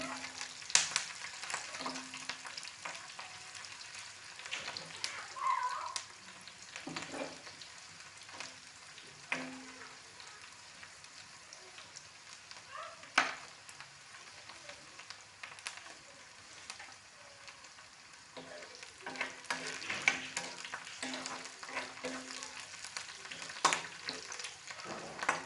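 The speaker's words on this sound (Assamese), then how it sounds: "অকণমান পিঁয়াজটো ভজালৈকে ভাজিব লাগিব।" Onions fry with green chilies and panch phoron in a pan, a steady soft sizzle broken by repeated scraping stirs, close by and quiet, with no talk.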